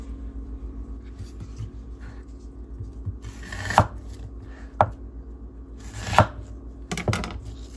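A knife chops red bell peppers on a board: about five sharp, separate cuts at uneven intervals over a low background rumble.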